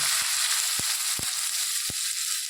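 Fenugreek seeds spluttering in hot oil, a steady loud sizzle broken by several sharp pops and crackles at irregular intervals.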